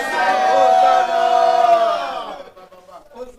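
A church congregation shouts a loud, sustained, unified "amen" back to the preacher, a crowd cry that swells for about two seconds and then trails into scattered quieter voices.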